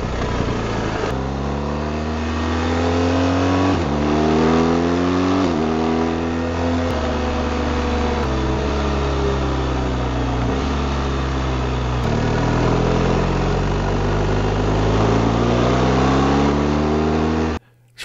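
Motorcycle engine picked up by an INNOVV K5 camera microphone while riding: loud, continuous mid-pitched engine drone rising and falling through repeated revs and gear changes for about eighteen seconds, with no talking.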